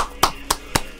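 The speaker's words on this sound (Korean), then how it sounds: "박수!" Three sharp, close hand claps land at an even, brisk pace over a faint steady background hum.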